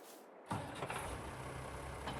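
A tractor engine in Farming Simulator 22 cranks and catches after a brief quiet moment, then settles into a steady, fairly faint idle rumble that continues to the end.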